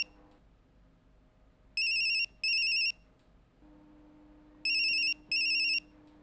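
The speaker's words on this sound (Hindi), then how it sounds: "पार्थो का मोबाइल।" A mobile phone ringtone plays two paired bursts of bright electronic tones, a pause between them, clear and fairly loud over a quiet room hum, with no talking.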